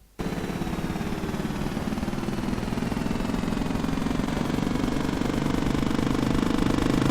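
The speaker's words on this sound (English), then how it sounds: "an additional helicopter sound for when the helicopter malfunctions after an explosion" A video game helicopter's engine malfunctions after an explosion: a loud, steady, dense mechanical rattle and roar starts abruptly and holds with rapid chopping pulses throughout, without any voices.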